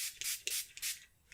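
A spray bottle mists water onto distress background paper in several short hissing bursts, close and fairly loud, with brief gaps between pumps.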